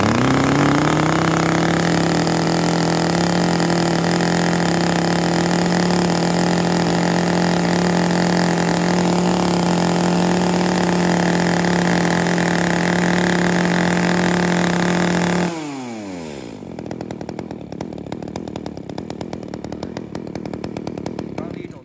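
A Japanese-made Ryobi chainsaw fitted with a 91 chain and original Ryobi bar runs at a steady, loud, high idle for about fifteen seconds, then the engine drops sharply to a lower, rougher rhythm.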